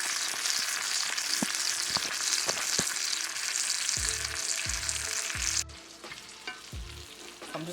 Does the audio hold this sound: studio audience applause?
no